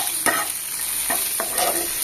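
Food frying in a pan for chicken Maggi noodles, a steady close sizzle broken by several scraping stirs, with no talking.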